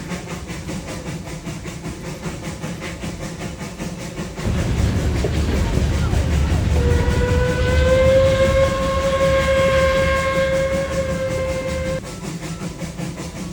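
The Puffing Billy steam train runs through Australian forest, its wheels and carriages rumbling steadily, louder from the middle onward, while a long, clear whistle sounds for several seconds before fading back to the rolling clatter, with no talking.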